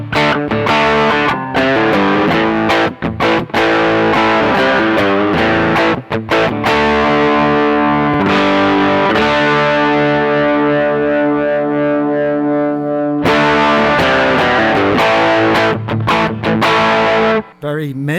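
Electric guitar through the overdrive section of a NOTADÜMBLË pedal, thick mid-heavy distorted chords and riffs played loud and continuously, with a few sharp stops and restarts and no voice.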